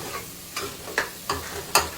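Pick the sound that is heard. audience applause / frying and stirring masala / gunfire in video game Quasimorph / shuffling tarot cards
frying and stirring masala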